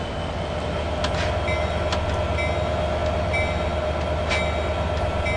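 An Amtrak Pacific Surfliner train departs in the Open Rails train simulator, a steady low rumble with a humming engine tone and a few faint clicks and squeals over the running noise.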